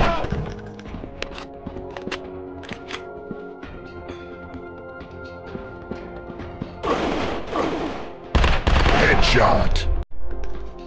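Rapid gunshots ring out in the Android first-person shooter FPS Future War, sharp scattered cracks over a steady game soundtrack, building to louder, denser bursts of fire near the end.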